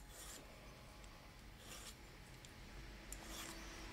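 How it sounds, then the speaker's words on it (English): A hand file scrapes a bevel around a sterling silver ring, producing continuous faint rasping strokes with a few brighter scraping bursts, close and alone without speech. "So you're just going to go all the way around and file that beveled out"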